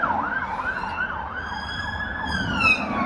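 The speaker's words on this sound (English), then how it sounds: "we've got emergency services now, just to add some more noise." An emergency services siren wails outside with a steady rising-and-falling tone, moderately distant and continuous, growing slightly louder near the end over faint road traffic.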